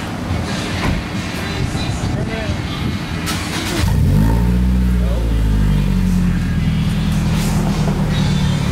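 Scion tC fitted with a new custom exhaust, engine starting and revving with a deep, loud rumble that fills the rest of the clip after a quieter opening, voices talking nearby.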